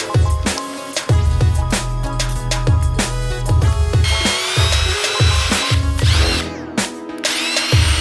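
A power drill bores holes in a DIY car front splitter with loud close whining bursts that start and stop repeatedly.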